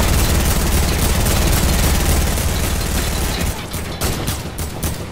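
A turret in the video game Fortnite fires a loud, sustained stream of rapid shots that fills most of the clip, then thins into separate bursts near the end.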